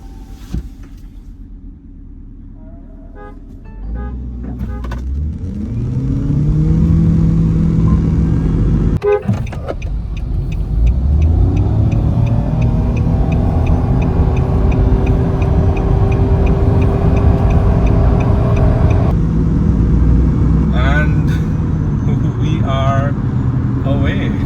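A Haval Jolion HEV and a Nissan Note e-Power launch in a drag race after short horn toots, their drive whine rising steadily and staying loud and close while people talk over it.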